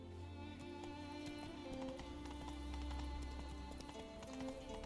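Roach the horse gallops in The Witcher game, a continuous thudding stride that is loud and close under a dense wash of game ambience.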